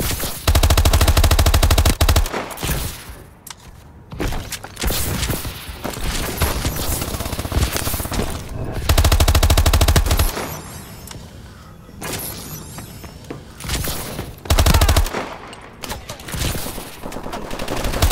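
Call of Duty: Advanced Warfare remote turret firing in a multiplayer match, loud sustained automatic bursts that repeat in long volleys with echoing gunfire and clatter between them, no talk.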